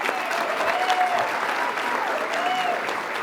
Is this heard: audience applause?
yes